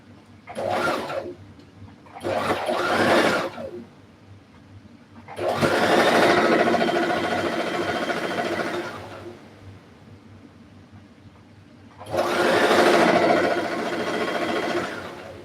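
A sewing machine stitches a pair of trousers in four separate runs: two short bursts, then two longer stretches of steady whirring, each stopping cleanly with quiet pauses between.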